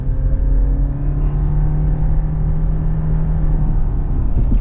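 A 2025 Subaru Forester Touring Hybrid accelerates with a steady loud cabin rumble and engine drone that holds throughout, with no one talking.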